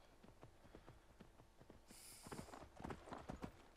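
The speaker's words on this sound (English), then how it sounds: "one of the things I like about horses is that they can go up almost any surface" Horse hooves clip-clopping in Skyrim, a steady rhythmic trot of close hoofbeats that grows louder and busier toward the end, with no talking.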